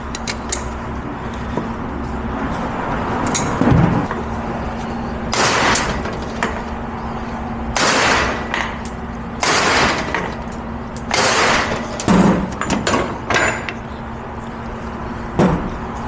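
U-joint caps are hammered out of a 2006 Nissan Pathfinder rear driveshaft in a repair shop, heard as close, sharp bursts of rapid metallic blows separated by short pauses.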